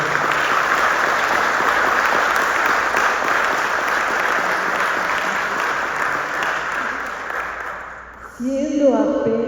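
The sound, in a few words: audience applause for the author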